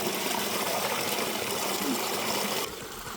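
Spring water pours from a fountain pipe at a state park, a steady close splashing flow that cuts off abruptly near the end.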